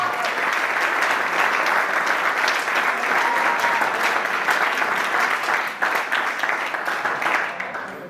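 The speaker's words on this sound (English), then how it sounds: "they deserve the biggest round of applause tonight to Miranda and Joe Gonska" At a golf fundraiser and awards presentation, an audience breaks into loud, sustained applause for a couple who took on a local chapter. The thick, even clapping lasts throughout, easing slightly near the end.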